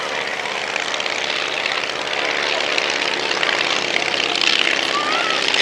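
Propeller aircraft passing overhead during a handicap air race at the Shuttleworth airshow, a loud continuous engine drone that holds steady and swells slightly toward the end.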